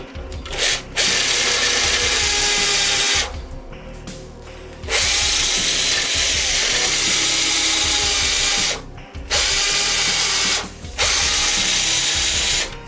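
A power drill bores a pilot hole into wood for a decking screw, whining loudly and steadily in several long bursts separated by short pauses.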